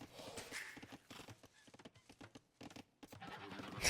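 A horse runs past in a real-time strategy match, its quick hoof clip-clops rattling in uneven bursts among other game effects over about four seconds.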